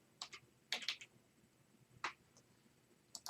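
Quiet, close keyboard typing in a few short bursts of quick clicks separated by pauses, with a faint background hiss.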